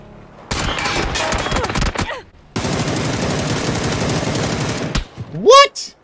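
Sniper fire in PUBG: a dense run of gunshots and game noise fills the opening seconds, followed by a sustained crackling barrage, with a short rising electronic tone near the end.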